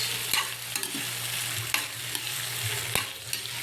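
Shrimp cooking in butter in a pan crackle and sizzle steadily up close, broken by a few sharp scraping clicks from stirring.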